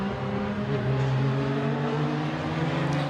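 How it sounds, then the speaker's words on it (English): Race cars lapping the Sandown circuit during a state championship round, a steady loud engine drone with a sustained pitch and no break, heard from trackside. "cars making their way around to complete lap number 3"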